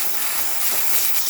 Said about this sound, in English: excellent temperature for the steamer